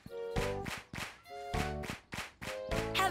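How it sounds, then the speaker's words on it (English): Hands clapping in a steady rhythm, sharp claps in groups alternating with sung tones, clear and close with a children's musical backing. "You can even hear it when you clap your hands"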